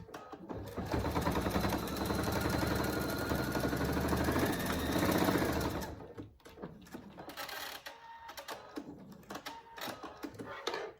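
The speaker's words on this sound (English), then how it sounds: "fold it over about an inch, and then just sew it closed" A sewing machine runs steadily for about six seconds, stitching a folded fabric strip closed on a dog collar, then stops, leaving only faint handling noises.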